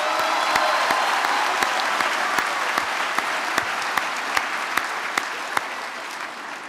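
Sustained applause from a large graduation audience fills a hall in East Hartford, dense and steady throughout, with sharper individual claps punctuating the wash at regular intervals.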